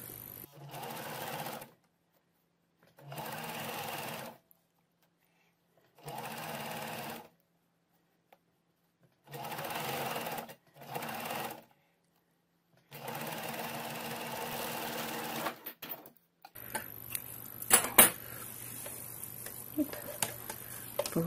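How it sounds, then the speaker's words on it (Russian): A sewing machine stitches fabric along the fold and edge in repeated bursts of about two seconds each, separated by short pauses, fairly close and clear, ending with a longer run and some handling noise. "И вот со стороны, где у нас сгиб и кромка, начинаем строчить."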